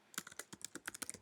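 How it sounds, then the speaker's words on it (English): Brisk run of close, crisp keystrokes on a computer keyboard entering a web address, quiet but distinct, with no voice. "type the URL in the address bar"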